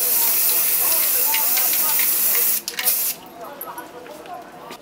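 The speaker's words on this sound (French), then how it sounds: "On prend le vernis et on bombe directement sur le liner pour étaler." Varnish sprayed from an aerosol can onto an abstract acrylic painting: a steady, close hiss of spray runs for about two and a half seconds, then cuts off into quieter short bursts and faint rustles.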